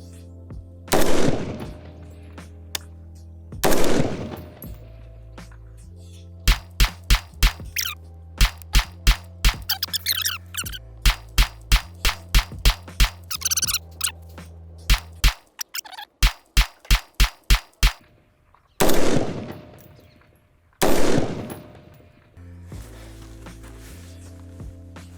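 A DPMS Kitty Kat rifle fires at an outdoor range, a few heavy booming shots spaced apart, then long strings of rapid sharp cracks in quick bursts, with loud reports returning near the end.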